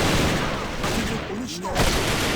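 Continuous loud gunfire from the shooter video game AVA, dense rapid bursts running the whole time with little pause, close and dominant.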